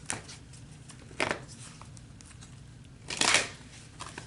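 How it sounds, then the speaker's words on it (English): Energy cards shuffled by hand at close range, two soft riffling bursts a couple of seconds apart, the second louder and longer, with a quiet room between them. "I wanted to pull a couple of energy cards"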